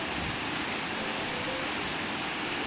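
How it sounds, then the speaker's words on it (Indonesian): Outdoors, rain falls in a strong wind, making a dense, even hiss that stays steady throughout with no voices. "dan di luar itu hujan ya, kemudian ada anginnya juga, jadi ini hujan angin ya teman-teman"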